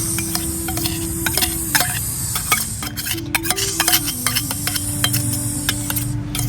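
Vegetables frying in hot oil in a pan in a home kitchen, with a steady close sizzle and repeated scraping stir strokes running throughout, no talk.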